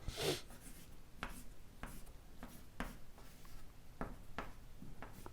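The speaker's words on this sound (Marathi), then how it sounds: "इथं लिहितो बघा," Chalk or marker writing on a board during a chemistry lecture on aldehydes and ketones makes a series of short, crisp scratching strokes in an irregular rhythm, close and quiet with no talk over them.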